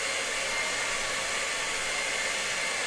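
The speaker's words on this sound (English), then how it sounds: "So they're not in the way of the hair dryer. I'm turning this on." A hair dryer runs steadily with a loud, continuous broadband whoosh through the whole stretch, close to the microphone with no pauses and no talking, used to dry acrylic paint.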